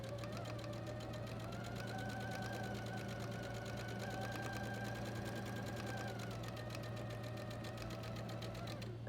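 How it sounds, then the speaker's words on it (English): A sewing machine hums steadily and evenly while stitching a line on a quilt block. The sound is constant and close, with a low mechanical drone throughout. "remember to use a foot on your machine that is easy for you to sew on a line"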